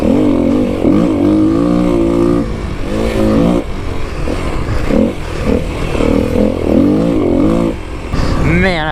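Kawasaki KLX300 dirt bike riding over desert whoops: the engine note rises and falls in pulses as the bike crests each bump, loud and close, with heavy wind buffeting and a rider's voice speaking over it.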